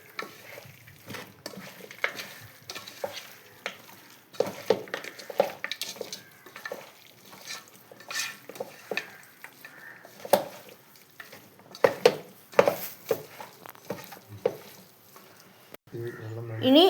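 Beef masala being mixed and stirred in a cooker, with soft scraping and clinks of a spoon against the pot repeating through the clip, close by, while a person talks over it.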